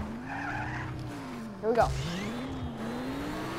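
A car in Just Cause 3 driving over a field jump, steady engine drone with a brief skidding squeal as it lands, while someone talks over it briefly.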